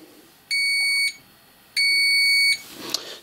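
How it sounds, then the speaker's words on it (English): A digital multimeter in continuity mode gives two steady high-pitched beeps, one short and one longer, as the probes touch during grounding of a PC power supply, close and clear with a small click after. "when you touch your probes together, they should beep at you."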